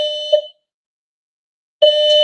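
A smoke alarm sounds in loud, piercing electronic beeps, one ending at the start, then a pause of over a second before the next long shrill beep begins, close by and with no talking.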